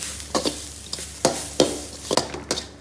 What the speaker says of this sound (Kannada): ಈಗ ಇದು ನೋಡಿ ಫ್ರೈ ಆಯಿತು, ಒಳ್ಳೆ ಪರಿಮಳ ಬರ್ತಾ ಉಂಟು ತೆಂಗಿನಕಾಯಿ